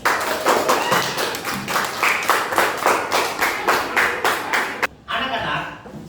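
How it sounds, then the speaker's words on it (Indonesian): Classroom students clap together in a quick, regular rhythm after a group presents a poster, a brisk unison beat that runs for several seconds before breaking off, with a little chatter and laughter afterward. "Oke, tepuk tangan."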